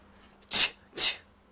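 Two sharp sneezes in quick succession, close and loud, over a quiet room background.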